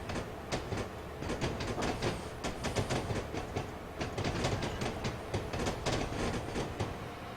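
A GE44 locomotive in Train Simulator 2016 on the Portland Terminal B&M switching route, rolling slowly with a steady rumble and repeated rhythmic clickety-clack of wheels over rail joints, heard alone.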